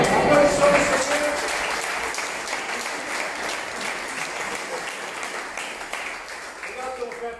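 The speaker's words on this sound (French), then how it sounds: "Applaudissons le Seigneur." A French-speaking church congregation applauds during a worship service, with loud sustained clapping from many hands that starts strong and gradually thins over about seven seconds, with voices faintly audible beneath and near the end.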